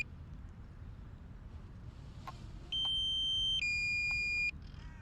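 A drone flying in reverse over Finsbury Park, London, gives out a pair of high-pitched electronic beeps, sustained tones lasting a second or two over a soft background rumble.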